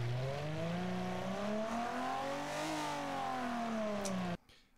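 A 90-degree V6 car engine in a video game revs steadily, its pitch rising and falling in a smooth sweep over several seconds, loud and close, before cutting off abruptly near the end.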